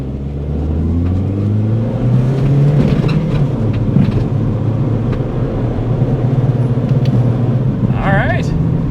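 A Toyota Celica GT-S engine drones loud and close inside the cabin after a downshift, rising in pitch then holding a steady rumbling tone, with a voice briefly audible near the end.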